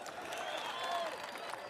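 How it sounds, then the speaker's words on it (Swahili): A large outdoor crowd at a political rally in Trans Nzoia, Kenya, claps steadily in a dense, even wash of applause heard from a distance, with faint voices mixed in. "Pigeni huyu mama makofi."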